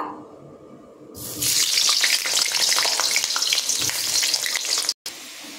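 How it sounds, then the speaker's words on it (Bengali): Potato pieces frying in hot oil in a kadai. A loud, dense, steady crackle and sizzle swells up after a quieter opening and carries on close by, with a brief break near the end. No one speaks. "এরপর এখানে আমি সমস্ত আলু সুন্দর করে ভেজে নেব"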